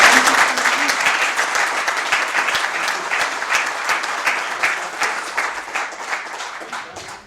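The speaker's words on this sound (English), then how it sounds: "a round of applause" A room full of people applauds at a county board meeting, steady dense clapping close by that gradually thins and fades over several seconds.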